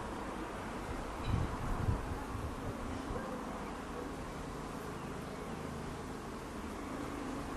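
Buckfast honey bees buzz steadily around an open hive, a dense continuous hum with faint rustling and a brief louder swell early on, with no talking.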